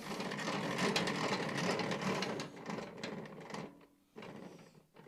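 A VEVOR benchtop wood planer whines and rattles loudly as it makes a first pass through a board, the noisy cutting sound easing off toward the end.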